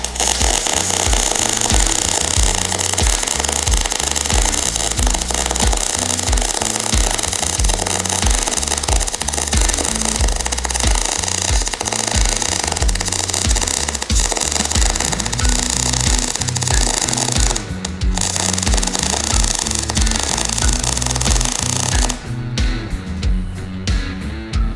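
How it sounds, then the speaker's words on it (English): A MIG welder lays a bead on steel with steady, dense crackling and snapping like popping corn. The sound is loud and continuous for about twenty seconds, with a brief dip partway through, and cuts off near the end. "What you're looking for here is basically like popcorn snaps, and that's kind of what a good MIG weld should sound like."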